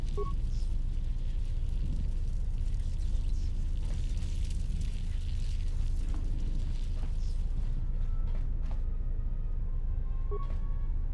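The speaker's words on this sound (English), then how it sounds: "Turbolifts have been sealed to contain the explosion." A ship explosion in the video game Star Wars: KOTOR 2 comes through as a low, sustained rumble with scattered crackles and soft thuds, fairly quiet and steady throughout.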